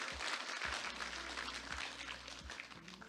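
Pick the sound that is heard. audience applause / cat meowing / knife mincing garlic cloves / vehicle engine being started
audience applause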